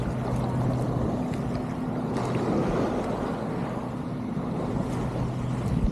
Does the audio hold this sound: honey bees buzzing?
no